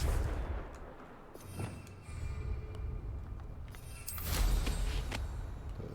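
A Confringo fire spell is cast in the Hogwarts Legacy video game, bursting out as explosive blasts and crackling impacts, with a sharp loud burst near the four-second mark over a low rumbling background.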